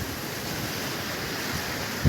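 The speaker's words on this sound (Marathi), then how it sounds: "लाटा जबरदस्त दगडांवरती उसळत आहे" Rough sea waves surging against rocks on a coast at night, a constant dense roar of surf mixed with wind buffeting, with a heavier thump at the very end and no talking.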